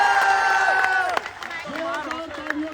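Students at an SSC protest rally clap and cheer for an arriving teacher. Scattered claps and excited shouts rise from the crowd, with a voice speaking over the noise.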